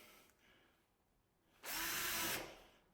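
Power drill driving a screw into a wardrobe panel during assembly, one loud burst of whirring motor lasting under a second after a quieter lead-in.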